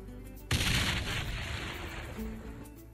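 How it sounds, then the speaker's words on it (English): Explosives detonating in Ty the Tasmanian Tiger 2: Bush Rescue, a sudden loud blast after a short quiet stretch, then a long rumbling decay with a smaller thump toward the end. "That was a rip-snorter of an explosion, eh, mate?"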